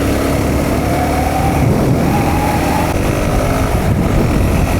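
A Suzuki DRZ 400 SM motorcycle engine drones loud and close, holding a steady, hard-pulling note while the rider tries to lift the front wheel, with rushing wind noise and no speech.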